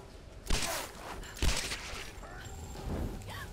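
Gunfire in the Tomb Raider video game, three sharp bursts spaced about a second apart, each with a short decaying tail, loud and close with no talk over them.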